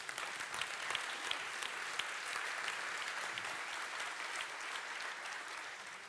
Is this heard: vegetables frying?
no